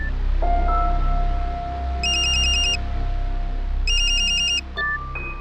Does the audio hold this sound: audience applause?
no